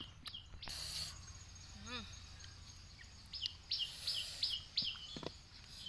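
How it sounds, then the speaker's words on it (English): Birds chirp in a forest, short high tweets in a quick series that come and go over quiet rustling and background noise, with a few brief louder knocks. "you can listen the sound of bird like chip chip chip chip in the back of me"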